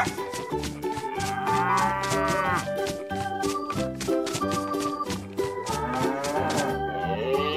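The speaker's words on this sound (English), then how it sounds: "Cow." A cow moos in long, drawn-out lows, repeated several times over a loud rhythmic music bed, with no one talking.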